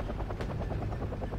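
Helicopter rotor chopping steadily in Wargame: Red Dragon, a loud, continuous rhythmic beat of blades with engine whine, close and sustained throughout.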